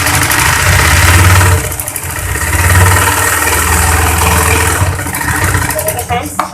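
A sewing machine stitches the seam of a baby frock, its motor running in a steady mechanical drone for several seconds with brief dips in speed and a short pause near the end.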